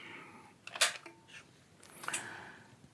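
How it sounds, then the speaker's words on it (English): Trigger of a Schnepper crossbow being set: a few sharp mechanical clicks and a scraping snap, close and fairly quiet, in two bursts about a second apart. "You set the trigger."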